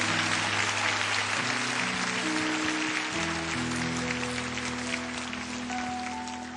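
A church congregation at a special dawn revival service claps in a dense, continuous wash of applause beneath sustained organ or keyboard tones, with no talking.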